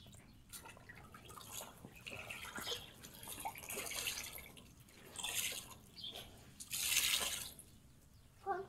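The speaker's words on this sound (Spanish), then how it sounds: "para empezar, voy a ir poniendo agua" Water poured slowly and carefully into a rustic cooking pot, a soft uneven trickle with drips and splashes rising and falling over several seconds, one louder gush near the end.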